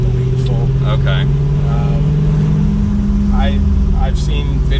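A C8 Corvette Stingray's engine and exhaust hold a steady, loud drone throughout, with people talking over it.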